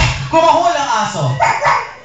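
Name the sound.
person imitating a dog barking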